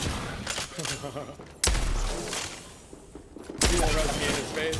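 Peacekeeper shotgun blasts in Apex Legends: two heavy, booming shots a couple of seconds apart, each with a sharp low thump, under a talking voice and game noise.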